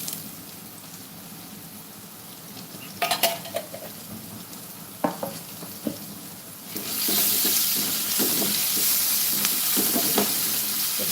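Ginger sizzling in a hot pan of oil for a Tamil home-cooked dish: faint background bubbling with several clattery stirring knocks, then the sizzle swells into a loud, steady hiss for the last few seconds.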